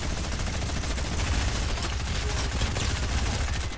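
Rapid machine gun fire in a video game, a dense, loud, continuous stream of shots filling the whole stretch with no break.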